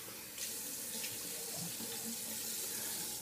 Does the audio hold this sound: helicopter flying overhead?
no